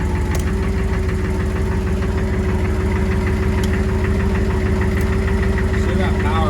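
A retired military Humvee engine idles loudly and steadily up close, giving off a dense, knocking diesel rumble and a constant drone with no change in pace.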